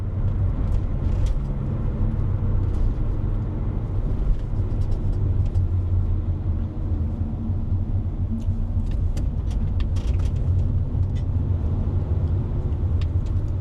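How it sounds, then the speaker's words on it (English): A truck passes on the road as a steady loud low rumble of engine and tires that fills the whole stretch, with faint scattered ticks above it and no speech. "goddamn fucking truck."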